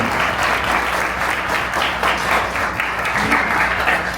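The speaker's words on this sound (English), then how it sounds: "Another round of applause." An audience at a live plant-music event applauds in a dense, continuous roar of clapping that stays loud and even throughout.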